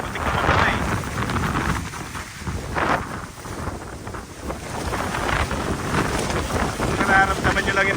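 Strong wind from a whirlwind on a hillside farm in Santillana buffets the microphone continuously, roaring and gusting with rough low rumble throughout, with faint voices underneath.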